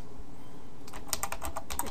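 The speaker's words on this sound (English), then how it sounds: "we got to create the watch accelerometer function" Quick, light clicks of a computer keyboard as code is typed, a short burst of close keystrokes after a moment of quiet room hum.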